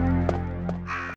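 Crows caw in the 1996 video game Resident Evil, several harsh calls ringing out over a steady droning hum until the sound cuts off abruptly.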